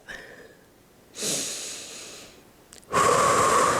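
Two long, audible exhalations during an exercise stretch, each a breathy rush of air close to the microphone, the second stronger and rougher after a short pause.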